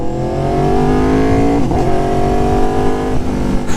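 An Aprilia Tuono Factory motorcycle fitted with an SC Project S1 exhaust, revving loud and close with a steady rising engine note and brief dips as the throttle shifts.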